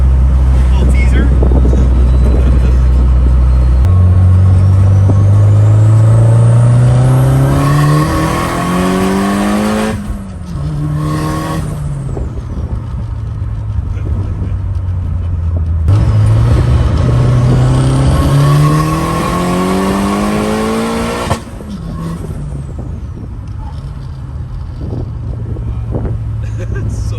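Car engine with a muffler and a newly installed oil cooler revving hard, rising through gears in two long accelerating pulls with sweeping engine tones and a brief drop between them, loud and close.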